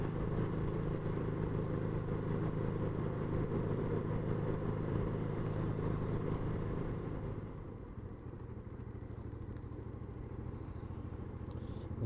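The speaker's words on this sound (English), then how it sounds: "It's very muted, but it has got a nice burble to it." A motorcycle engine gives a muted, steady exhaust burble while riding, a continuous low drone that eases slightly in level partway through, with no voices.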